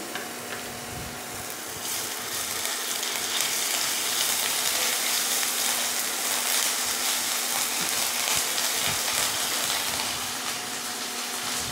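Ginger-garlic paste sizzles steadily in hot oil in a pan for chole, a loud continuous frying hiss with faint stirring underneath, no voices.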